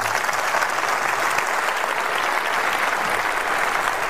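A full round of applause from an audience after a political speech on immigration, dense and continuous clapping at steady strength for several seconds with no voices over it.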